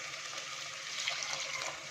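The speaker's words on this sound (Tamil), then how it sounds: "அதனால் 3 கப் தண்ணி ஆட் பண்ண போகிறேன்." Water pours steadily into a cooking pot of basmati rice and green peas, a continuous soft gushing that swells slightly midway, close and alone without talk.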